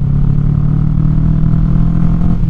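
Kawasaki Vulcan 650 S motorcycle engine roaring steadily while riding, a loud continuous low rumble close to the rider, with no talk.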